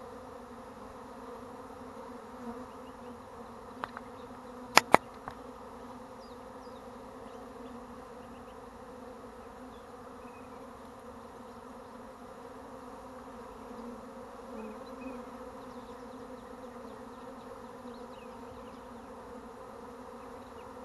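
A swarm of honey bees hums in a steady, sustained drone, close and even throughout, with a couple of brief sharp clicks partway through and no voices.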